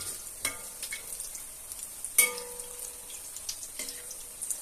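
Kaa bhaji, banana fritters, frying in hot oil, with a steady faint sizzle and several sharp spatters and pops spread across the stretch, close by, with no talk.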